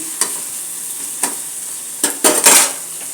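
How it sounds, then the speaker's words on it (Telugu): Tadka of onion and green chilli sizzling in hot oil in a pan while being stirred, steady high hiss broken by several sharp scraping stir strokes, the last ones louder and closer together. "अभी मैंने प्याज हरी मिर्ची और जो बघार का तड़का डाला ना तड़का लगाया"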